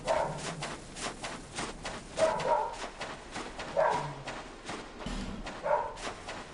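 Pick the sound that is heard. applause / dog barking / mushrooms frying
dog barking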